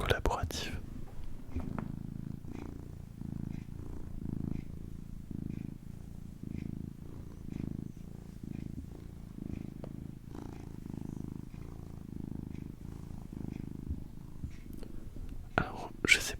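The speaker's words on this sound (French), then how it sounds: "Je pense faire une petite pause dans mon histoire pour le faire ronronner un peu, puisque c'est une machine à ronron comme j'en ai vu peu." A cat purrs steadily and close up in a quiet room, with a soft rhythmic in-and-out rumble continuing throughout, and brief handling noises at the start and end.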